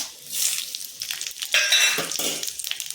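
Whole spices (cumin, whole garam masala, bay leaves and dried red chillies) crackle and sizzle in hot oil in a pan, loud bright bursts with a clink of a utensil stirring.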